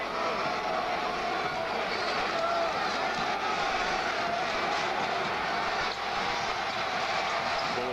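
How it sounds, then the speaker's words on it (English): The arena crowd at a 1997 NBA playoff game, Bulls vs Bullets in Chicago, keeps up a steady roar and murmur, with voices mixed into the constant background noise. "Bulls crowd makes a little noise."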